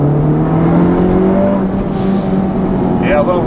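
A 2019 Honda Civic Type R with a Borla exhaust pulls hard from inside the cabin, its steady engine drone rising in pitch as it accelerates, loud and continuous.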